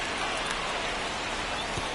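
Steady rain hiss falls across a baseball stadium in MLB 25, an even, continuous wash with no breaks, heard alone with no talk over it.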